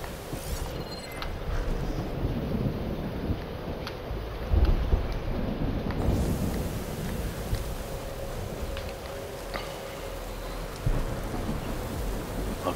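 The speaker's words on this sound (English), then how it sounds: "I can't see in the damn storm." A thunderstorm in the video game Horizon Forbidden West: steady heavy rain hissing throughout with low rumbles of thunder, swelling briefly in the middle, with no talking.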